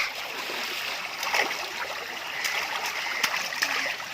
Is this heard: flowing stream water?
yes